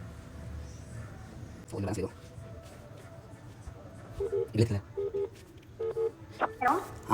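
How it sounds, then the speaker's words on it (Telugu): A phone dials a call, with a few short electronic keypad tones beeping one after another over a quiet room hum, mixed with some handling clicks and thumps. "సో ఇప్పుడైతే నేను తన కాల్ చేస్తా."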